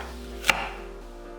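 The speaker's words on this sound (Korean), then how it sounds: "양파 작은 거 4분의 1개는 살짝 굵게 채 썰어 담고" A single knife chop through a small onion onto a cutting board, one crisp close knock standing alone in a quiet kitchen.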